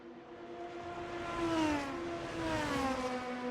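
Race car engine passing during a Super Formula championship finale, a single smooth pitch sweep that rises and then falls, moderately loud with no voices.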